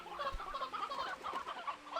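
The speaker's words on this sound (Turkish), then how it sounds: "Oo tavuklara bak." Chickens cluck steadily in the video game Slime Rancher 2 over a constant synthetic background hum, several birds overlapping in a busy, continuous chatter at moderate volume.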